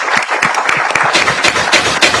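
A crowd applauds loudly and continuously, with dense overlapping claps filling the space at close range.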